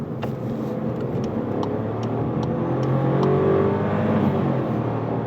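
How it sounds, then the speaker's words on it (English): A Volkswagen Polo with a 1.0-litre three-cylinder 110 hp turbo engine accelerates hard on a motorway in sport mode, its engine note rising steadily through the revs under a constant road and wind rush, heard from inside the cabin. "here with the 1 liter 3-cylinder, 110 horsepower turbocharged, and let's accelerate on the motorway"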